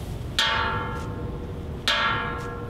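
Two separate strikes on a container of boiling hot water each ring out clearly, with a bright, bell-like metallic tone that slowly fades. The sound is close and there is no talking.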